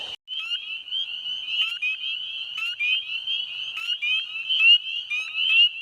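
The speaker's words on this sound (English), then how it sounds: "all I'm seeing right here is a bunch of spring peepers" A dense chorus of spring peeper frogs calls around a pond at night, a continuous shrill trilling of many overlapping high peeps, loud and close, with no other sound.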